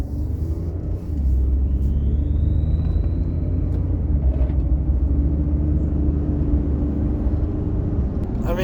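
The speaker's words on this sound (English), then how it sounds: "Hear like the little turbo noise." A 2012 Ford F150 EcoBoost with 222k miles and big tires is driven down the road, its engine and road rumble droning steadily while a faint rising turbo whistle comes and goes, with no voices over it.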